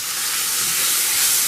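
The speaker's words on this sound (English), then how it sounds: "Let the meat cook and simmer." Meat sizzling in a hot pan on a home stove, a loud, steady, bright hiss that continues without a break, with no voices.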